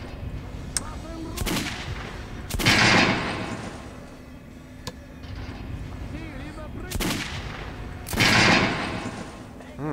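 Pistol shots fired in the video game Metro: Last Light, a few sharp loud cracks spaced apart over steady game ambience and music.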